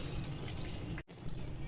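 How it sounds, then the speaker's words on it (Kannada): Water trickling into a pan of biryani masala with fried spices and yogurt, a steady pour with a brief break near the middle. "ಸ್ವಲ್ಪ ನೀರು ಆ್ಯಡ್ ಮಾಡ್ತಿದ್ದೀವಿ"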